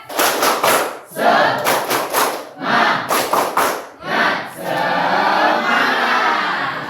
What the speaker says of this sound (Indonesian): sekarang Ibu mau coba tepuk semangat